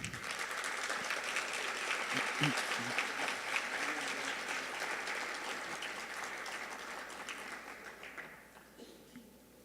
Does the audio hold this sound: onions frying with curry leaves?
no